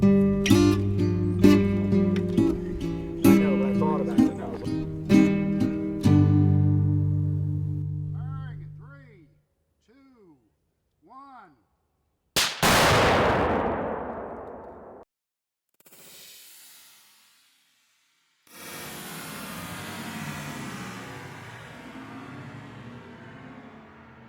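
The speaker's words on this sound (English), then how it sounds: "This is a 20-gram booster PETN charge. We're going to use it against the transaction window" A 20-gram PETN booster charge detonates against a transaction window in a sharp, loud blast that rolls off into a long rumbling decay, followed by a second noisy burst. Tonal music plays before it.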